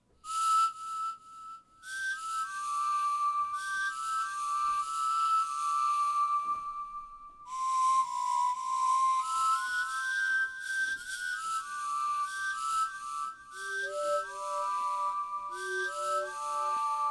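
Epona's Song from Zelda whistled as a clear, pure melody, the phrase played several times with short pauses between runs, close and alone with no talking.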